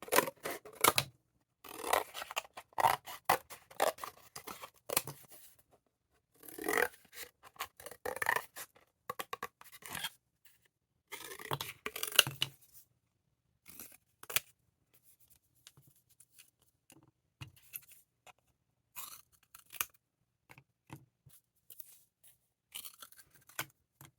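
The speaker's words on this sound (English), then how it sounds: "I am just going to simply cut them apart with my scissors." Scissors snip through foam sheets in quiet, close-up bursts of crunchy cuts separated by pauses.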